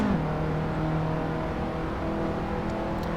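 Race car engine from the Assetto Corsa racing game on the main straight, a steady droning hum with a sustained tonal whine, continuous and fairly loud throughout.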